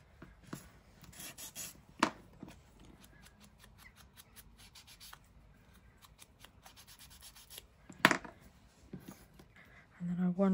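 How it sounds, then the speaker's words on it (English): Mummy cloth rubbed over a paper card tab in a papercraft session, producing soft intermittent scratchy rubbing strokes with a couple of sharper scrapes, close but quiet, and no one speaking. "Give this a bit of a sand."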